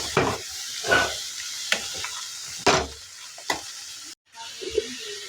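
Leafy greens thoran being stirred in a pan gives soft, intermittent scrapes and brief bursts of sizzle between quieter pauses, with a short silent gap near the end, close by.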